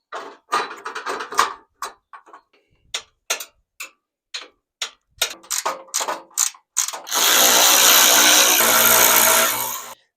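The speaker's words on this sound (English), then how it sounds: "Spanner." Ratcheting spanner at work on a car bumper of a salvaged nine-month-old MG3, giving sharp close clicking bursts at an uneven pace, then a longer steady mechanical whirr near the end.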